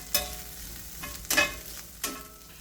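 Chorizo frying in a pan alongside tortillas cooking until crispy, a steady soft sizzle with a few louder bursts of crackling and stirring scrapes spread across a short stretch, no voices.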